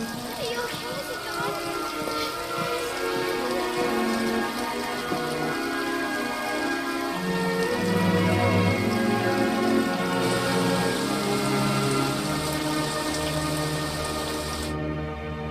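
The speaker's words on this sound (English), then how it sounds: "It appears that the rain is a worldwide phenomenon" Rain falling steadily in a disaster movie scene, a constant hiss and patter under a dramatic music score, with someone talking over it.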